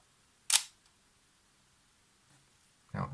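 A Leica camera's shutter fires in a near, crisp mechanical click, followed by faint small clicks and a second quick burst of shutter noise at the end, in an otherwise quiet room.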